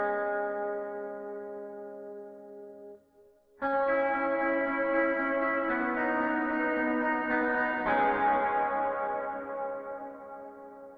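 Sustained, bell-like guitar tones with 100% wet reverb, the notes smearing into a washy, echoing sound that swells and lingers with no talking.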